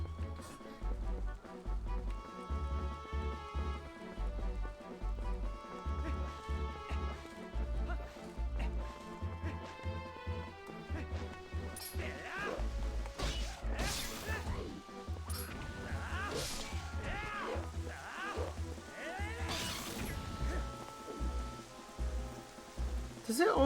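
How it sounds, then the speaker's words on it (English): Rain pours down in a Zelda video game, a steady patter partly buried under looping game music with a pulsing bass beat, while a person talks over it in the later half. "Does it always rain on the first time out here?"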